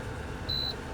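Electric cooker rated at 2,200 watts giving a single short, clear electronic beep as it is switched on, sounding over a low background hum.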